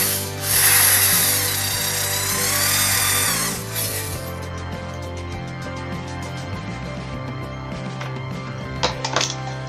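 A power drill whines loudly for a few seconds drilling holes in plastic, then stops, leaving low mechanical hum and faint clicks and scraping afterward.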